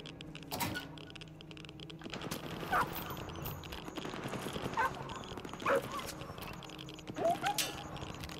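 Dogs bark in bursts during a chaotic fight between dogs and humans in the video game S.T.A.L.K.E.R. 2, with several sharp yelps spread over the clip amid combat noise.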